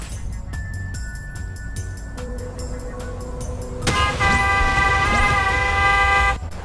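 Truck horns blare and overlap in the video game Clustertruck, several sustained tones of different pitches stacking up loudly, with engine rumble underneath.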